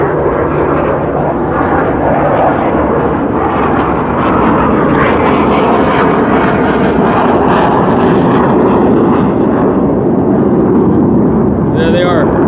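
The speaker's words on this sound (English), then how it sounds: "there goes the three F-18s" A formation of three F-18 jets roars overhead in a loud, sustained, broadband rumble that swells and holds for several seconds, with a voice talking faintly underneath.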